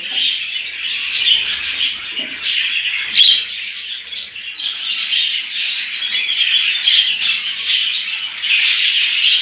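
Budgerigar parents and their chicks in a home breeding area give loud, steady squawks and chirps, a dense continuous chatter close by with no talking.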